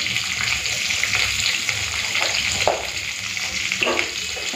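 Raw mango pieces with salt fry in mustard oil over a tempering of black mustard seeds and dried chillies, giving a steady close sizzle with watery bubbling and a few soft stirring scrapes throughout.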